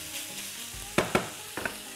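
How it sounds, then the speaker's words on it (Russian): Meat sizzles softly in a hot pan, with a few sharp clanks and scrapes of stirring cutting through the steady frying hiss. "Отправляем жариться мясо."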